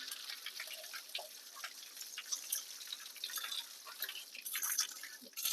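A muddy washing machine filter is rinsed under a running tap, with steady splashing and dripping water, fairly quiet and close, and no talking.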